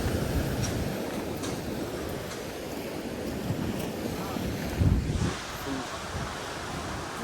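Surf washing up on a beach where people fish with lines, a steady roar of waves with wind buffeting the microphone and a heavier surge of water near the end.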